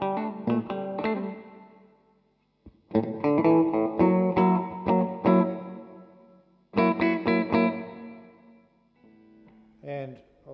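Electric guitar chords played through a Cuvave 9 Type reverb pedal on its plate setting with decay at 12 o'clock, strummed in loud bursts with pauses between, each ringing out with moderate tail; no talk over the playing.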